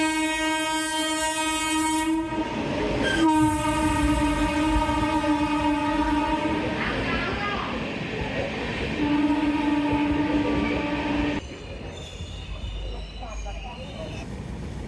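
A train passing near a railway station footbridge, its horn sounding in long, loud sustained blasts over a steady rumble of rail and wagon noise before the horn cuts off and a rougher rolling clatter continues.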